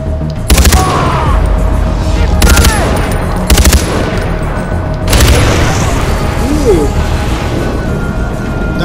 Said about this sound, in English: That was a neat explosion